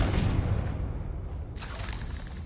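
A Confringo spell explodes in Hogwarts Legacy, a loud booming burst with a rushing whoosh that decays, then a second fainter blast near the end.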